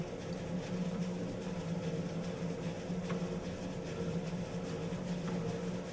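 A stand mixer runs on its stir speed while mixing pizza dough, giving a steady, even motor hum with no breaks and no voices.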